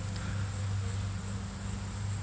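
Honeybees at the entrance of a five-frame nuc hive, with guard bees checking incoming robbers, a close continuous buzzing hum with a steady high whine, no voices.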